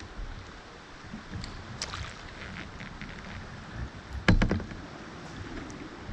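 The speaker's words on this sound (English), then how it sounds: "we're gonna back paddle over" A kayak paddle works the water of a trout stream, with soft splashes and dips over a low wash of flowing water and wind, plus a sharper knock and splash near the end.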